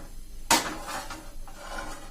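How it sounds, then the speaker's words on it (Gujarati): A nonstick griddle pan set down on a gas stove gives one sharp metallic clunk, then a brief softer scrape as it settles. "એના માટે આપણે ગેસ ઓન કરીને આ રીતે નોનસ્ટિક લોઢી મૂકશું"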